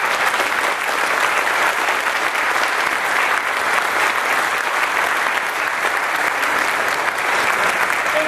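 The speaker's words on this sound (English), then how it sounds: "he deserves a round of applause" Sustained applause from a large crowd at a celebration in Pepperell, loud and steady throughout without a break.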